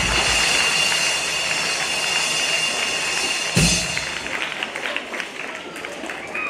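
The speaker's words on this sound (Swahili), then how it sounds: "Haya, mpige makofi watoto wazuri." A group of children clapping together at a religious gathering, a dense burst of applause that thins out after a few seconds, with voices mixed in.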